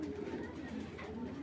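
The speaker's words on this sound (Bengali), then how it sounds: "আমার সব কবুতরগুলোই বিগ সাইজের" Large Netherlands racing pigeons coo softly in a short low burble, a faint close call with nothing else over it.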